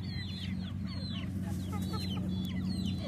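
Several chicks cluck and peep in short bursts over a steady low mechanical hum.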